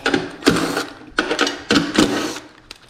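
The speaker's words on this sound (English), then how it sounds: "Then you'll take your impact gun." An impact gun removes bolts from a garage door opener rail using a half-inch socket. It fires in three loud, close bursts of whirring hammering with short pauses between them and no speech.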